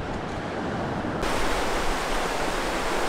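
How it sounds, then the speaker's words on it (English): A rough river rushes loudly and steadily throughout, a dense close roar of fast-flowing water at a fly-fishing spot, with no voices over it. "I don't know if you can hear me above the river"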